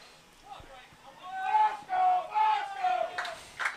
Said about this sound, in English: And the crowd getting into it here at Ramsey.